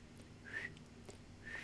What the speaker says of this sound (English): I do like a whistle to call him over